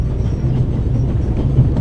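Steady low rumble of a train running in The Raven, a continuous close droning of wheels and carriage with no other sounds on top.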